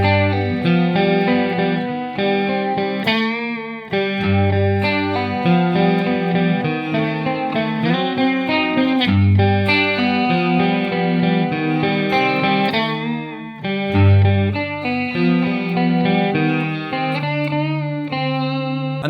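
Electric guitar with distortion and chorus effects plays through both parts of a song, dense sustained chords and riffs with steady rhythmic attacks across nearly twenty seconds, loud and close, no talking.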